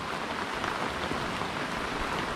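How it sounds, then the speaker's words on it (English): Steady rain pours through a mangrove forest, a dense, continuous hiss of drops on leaves and water with no voices, close and uniform throughout. "So you see how much it's raining."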